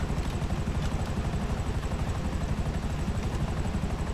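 Steady, close rotor thump and engine drone from a helicopter in GTA 5 Online, with a continuous low pulsing chop and no talk over it.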